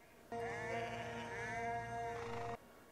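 A single sustained sheep bleat, close and clear, wavering for about two seconds before stopping.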